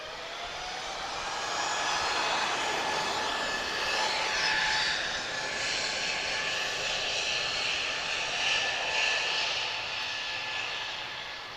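An Airbus A320neo jet departs Lisbon Airport for Munich, its engine roar swelling to a broad, loud rumble and hiss, then holding steady in the distance, with no talk.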